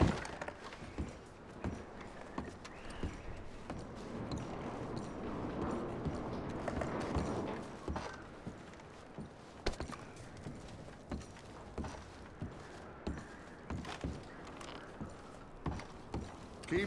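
Horse hooves clip-clop steadily in Red Dead Redemption 2, a brisk patter of hoofbeats in a rough rhythm throughout, with occasional sharper knocks over a soft ambient wash.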